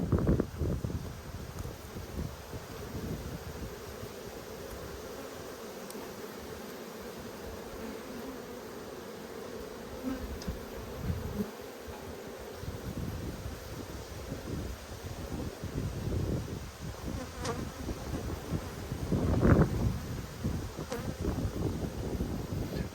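Agitated honey bees buzz steadily at an opened hive during a beekeeping inspection in Australia, a continuous close insect hum with outdoor wind noise and occasional handling sounds.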